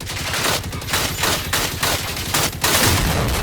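Rapid bursts of automatic gunfire from the video game Generation Zero, fired at hostile robots, loud and close with short repeated volleys and brief gaps between them.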